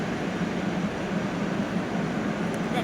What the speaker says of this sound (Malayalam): മെട്രോ നിൽക്കുന്നുണ്ട്.